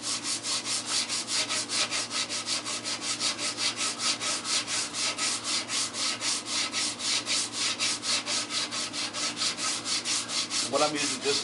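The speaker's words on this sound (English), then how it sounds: "what I'm using, just some 80 grit sandpaper" Hand sanding with 80 grit sandpaper on a surface being prepared for paint, a steady rhythmic back-and-forth rasp of about two strokes per second, close and consistent throughout.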